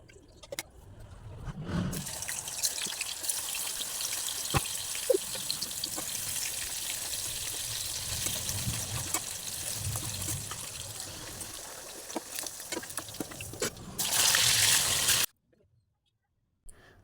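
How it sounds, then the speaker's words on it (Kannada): Raw banana slices deep frying in hot oil give a steady, close sizzling hiss that runs for about thirteen seconds and then cuts off. "ಇದನ್ನು ಕಾದಿರುವ ಎಣ್ಣೆಗೆ ಹಾಕಿ ಡೀಪ್ ಫ್ರೈ ಮಾಡ್ಕೊಂಡು ಇಟ್ಕೊಬೇಕು"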